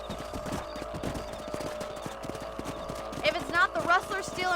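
Horse hooves clip-clop at a steady, moderate pace in the Western game Red Dead Redemption, close and clear beneath ambient voices and game sound, with a brief brighter flourish near the end.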